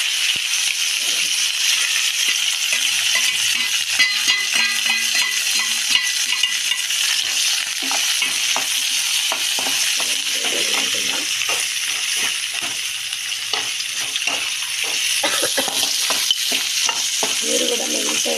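Cumin, mustard seeds, chili, onion and curry leaves fry in hot oil for idli upma, a loud constant sizzle with scattered popping and crackling and the clink of stirring throughout.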